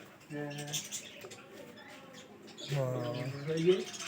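Domestic pigeons coo in low, rounded calls near a house, a short rolling coo early and a longer one later, with people talking over them.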